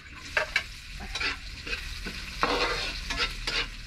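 Garlic and onion frying in a pan, a close, busy sizzle broken by repeated scraping strokes of a spatula, with no talking.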